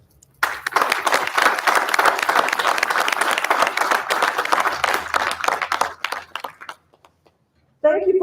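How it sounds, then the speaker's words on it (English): A room of attendees applauds at a NATO Supreme Allied Command Transformation award ceremony honoring the 2020 members of the year, a full burst of clapping for about six seconds that thins out before a voice resumes. "join me in one last round of applause for our 2020 HQ Supreme Allied Command Transformation Outstanding Members of the Year"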